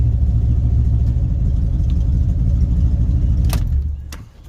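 A 1980 Chevy square body truck engine runs on fuel poured into the carburetor, a loud close steady rumble that sputters and dies away near the end.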